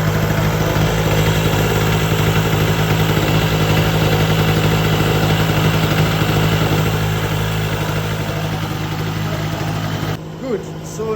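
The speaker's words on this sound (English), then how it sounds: "So now we have our generator on, our combustion engine is on." A pull-start combustion-engine generator runs at a loud, steady drone during a flue gas analysis session in an air quality lab, then cuts off abruptly near the end.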